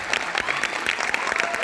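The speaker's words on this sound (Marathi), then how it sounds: "जरा जोरदार टाळ्या सगळ्या मुलींसाठी" A hall audience at a Kathak dance performance at Atre Rangmanch in Kalyan breaks into a short, dense burst of loud, continuous clapping.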